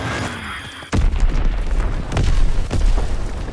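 Azon bomb detonating in Call of Duty: WWII hardpoint match, a sudden heavy boom followed by a rolling, crackling rumble and a second strong blast, loud and close amid game ambience.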